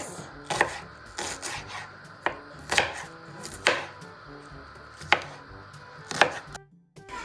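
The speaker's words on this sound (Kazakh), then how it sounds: "енді пиязды турап саламын" A knife chops an onion on a board in a home kitchen, with about seven crisp, irregularly spaced cuts and soft scraping between them, close and clear with no talking.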